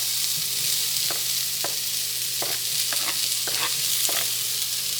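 Peppers fry in a pan of oil and butter with spicy garlic oil for an omelet, a steady sizzle running throughout while a utensil stirs and scrapes in several sharp, separate strokes.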